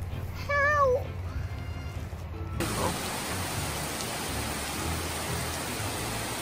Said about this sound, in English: we have got a mother of a storm here at the moment